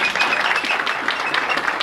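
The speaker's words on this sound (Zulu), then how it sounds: "asimuphele ihlombe" Applause rises from an audience at an off-line MMM event in Pietermaritzburg, South Africa: a loud, dense, continuous patter of many hands clapping, close and sustained for the whole stretch.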